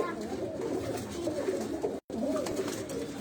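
Pigeons cooing in a loft of high-flying racing pigeons, soft repeated low coos close by under steady background noise, with a brief dropout midway.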